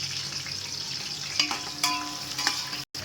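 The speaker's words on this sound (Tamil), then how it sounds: "இந்த வெங்காயம் நல்லா வணங்கட்டும்" Large onions with two green chillies frying and sizzling steadily in a pan for a chicken biryani, with a few scraping stirs, close and continuous, no talking.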